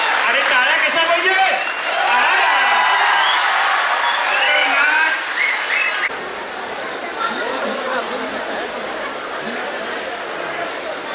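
A packed book festival audience roars with cheering, whoops and clapping amid heavy crowd chatter; it is loud and dense for about six seconds, then settles into a softer murmur of talk and scattered applause.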